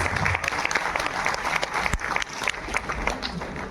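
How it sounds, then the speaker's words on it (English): A crowd applauding with dense, steady clapping from many hands, loud and sustained throughout. "Let's welcome them with a huge round of applause."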